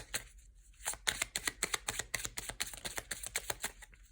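Tarot cards shuffled and drawn close up, a fast run of crisp flicking snaps in rhythmic bursts, with a brief pause early on before the riffling picks up again.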